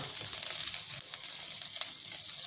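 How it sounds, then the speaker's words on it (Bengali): Dried chili, cumin and ginger tempering sizzling in hot oil for a bori and drumstick curry, a steady close crackling hiss with a few sharper pops, no talking. "এতে একটু শুকনো লঙ্কা ফোড়ন, জিরে ফোড়ন, আদা ফোড়ন আমি দিয়ে দেব।"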